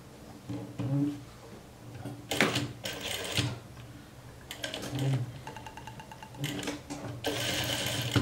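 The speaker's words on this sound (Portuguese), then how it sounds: "Vou costurar aqui de cima, de baixo para cima aqui." A sewing machine runs a jumpsuit seam in several short bursts of rapid mechanical stitching, close and clear, with quiet gaps in between and one steadier run near the end.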